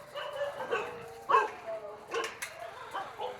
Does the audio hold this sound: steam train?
no